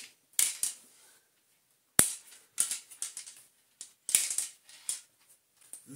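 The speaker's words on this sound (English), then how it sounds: "this trim should just pop off, along with the button for the speed control" Plastic trim is pried off an Electrolux vacuum motor housing, giving a series of sharp, close clicks and snaps in irregular clusters, with quiet gaps between them and no talking.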